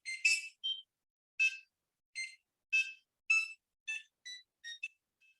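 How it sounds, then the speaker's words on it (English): Buzzer on a Raspberry Pi, driven by a Java app through a PWM channel, sounds a run of about ten short, shrill electronic beeps at uneven intervals, clear and close with no voices. "Now, one of them is the buzzer app."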